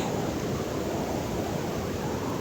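A Konkan village river runs swollen and flooded after a full day and night of torrential rain. Its water produces a steady, broad, hissing rush heard from nearby without any voices.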